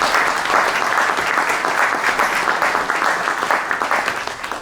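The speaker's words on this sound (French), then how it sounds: "monsieur Michel Ménard, que je vous demande d'applaudir." A conference audience gives a loud, dense round of applause for a speaker at a national round-table event in Loire-Atlantique, the clapping sustained and fading slightly at the end.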